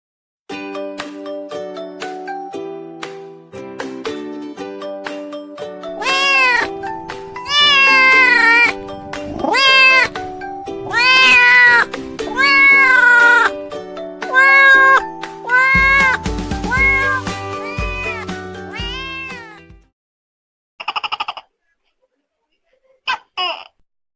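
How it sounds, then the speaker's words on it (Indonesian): A cat meows in a series of loud, melodic calls over background music, with a few short sounds after the music stops. "Kucing."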